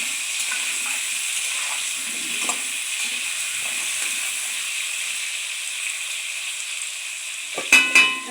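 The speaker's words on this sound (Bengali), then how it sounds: "লবণ দিয়ে দেবো, ভালো করে ভেজে নেব।" Mutton fries with salt in a pan, a steady close sizzle and hiss running throughout, with faint scattered stirring scrapes and a couple of sharper clatters near the end.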